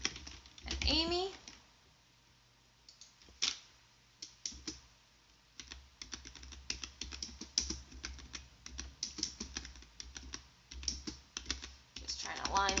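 Computer keyboard typing while entering names into an HTML table: irregular bursts of soft key clicks, preceded by a short stretch of a voice speaking.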